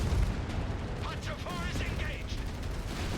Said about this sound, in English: Artillery coming down over here.